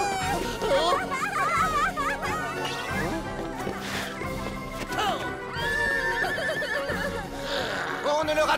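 A cartoon horse gives repeated shrill neighs and whinnies over quick clip-clop hoofbeats as it gallops away, with voices talking among the busy, loud effects.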